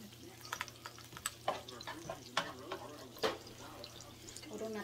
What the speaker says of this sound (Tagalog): Lagyan na natin ang ating onion.